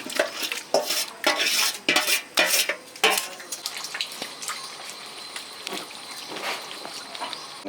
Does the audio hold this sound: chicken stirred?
yes